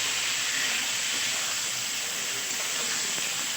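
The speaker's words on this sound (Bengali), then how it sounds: "আলুগুলো তুলে নিয়ে ওই তেলের মধ্যে বেগুন দিয়ে দিলাম" Brinjal pieces with a little salt and turmeric frying in hot oil, a steady dense hiss and sizzle that holds evenly throughout, loud and close with no talk.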